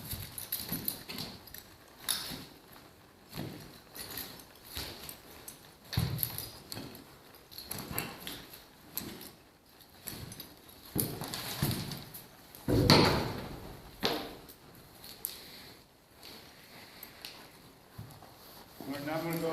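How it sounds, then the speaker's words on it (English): A stud horse's hooves shuffle and clop sideways on the ground as a handler pushes him over. The steps come in irregular thuds, near and moderately loud, and a person's voice is heard at times. "Taking my stud horse here and physically pushing him sideways,"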